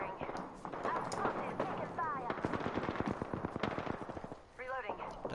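Rapid video game gunfire rattles in quick automatic bursts, fairly near, while voices talk over the shooting throughout.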